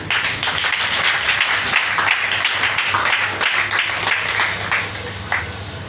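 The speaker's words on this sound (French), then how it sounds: "Acclamons cette révélation" A church congregation at a French-language Christian service applauds, a dense, continuous wash of clapping that holds steady for several seconds before easing off.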